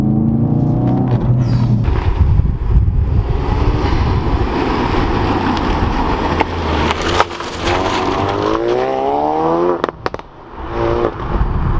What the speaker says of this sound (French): Ça pétarade.